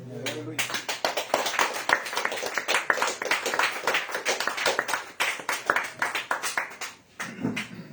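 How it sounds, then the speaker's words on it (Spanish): Church congregation clapping in praise to the Lord, a fast rhythmic run of sharp, close claps that continues for several seconds, pauses briefly near the end, then resumes with voices. "Denle aplausos al Señor."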